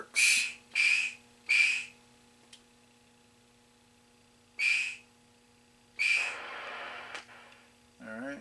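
Player-hit sound from a 1980 Taito Space Invaders Part II arcade board under repair: a few short, high electronic bursts spaced apart over a steady low hum, ending in a longer noisy burst and a wobbling tone.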